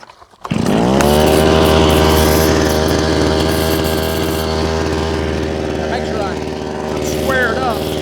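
A powered auger fitted with a small bit digs footer holes for a carport, its engine kicking in loud and close and then droning steadily, with a voice briefly heard over it near the end.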